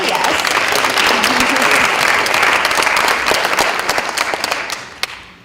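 A school audience at Senn, gathered for a visit by Parkland students, applauds in a loud, steady burst that thins out and fades near the end, where a brief spoken word cuts through.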